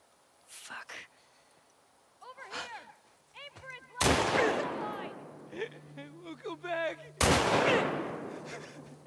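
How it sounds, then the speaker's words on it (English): Gunfire in The Last of Us Part II: two loud, sharp gunshots ring out a few seconds apart, each trailing into a long echoing tail, set among tense spoken dialogue and quieter earlier sounds. "He's got a gun!"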